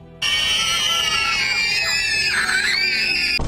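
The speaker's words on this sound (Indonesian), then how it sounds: "sosok-sosok gaib itu langsung mengeluarkan suara teriakan yang sangat keras" Ghostly figures in a Korean mystery film let out one sustained, piercing scream that starts abruptly and holds loud and close for over three seconds before cutting off.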